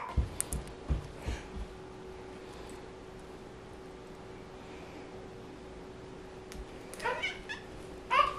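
A pet cat indoors gives a few faint meows at the start and again near the end over a steady background hiss and hum, quiet and somewhat distant.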